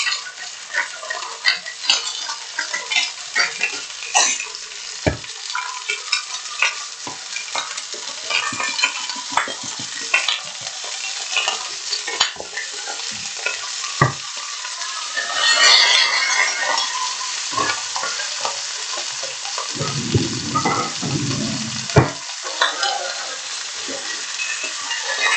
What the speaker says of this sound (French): On va faire saisir notre viande.